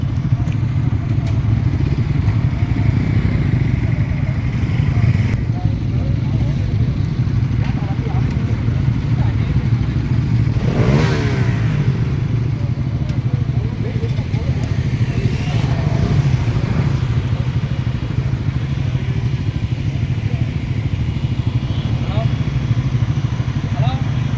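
A Bajaj Pulsar NS200 motorcycle is ridden on a road near Thirumoorthi Malai, its engine a loud, continuous drone with wind rush throughout and a rider's voice heard over it at times.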